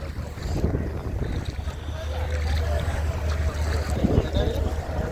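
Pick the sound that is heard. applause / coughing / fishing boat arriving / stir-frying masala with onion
fishing boat arriving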